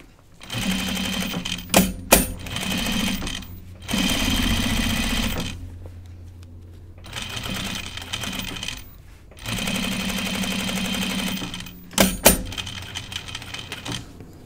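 A sewing machine stitches in several loud, close bursts a few seconds long, with short pauses between runs and sharp clicks where each run starts and stops. The work is a jacket, and no one talks over the stitching.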